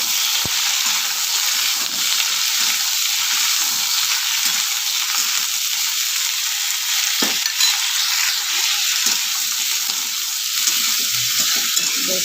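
Bean and potato fritters in gram flour batter fry in hot oil, a loud, continuous close sizzle with occasional stirring clinks throughout.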